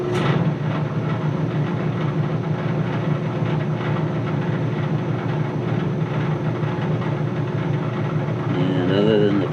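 A furnace blower fan, switched on manually through a two-wire thermostat, drones with a steady low hum while the furnace rattles along with it, continuous and fairly loud throughout.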